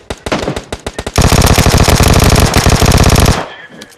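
AK rifle fire in PUBG Mobile comes as a few quick single shots, then a long rapid automatic burst that is loud and close, ending abruptly.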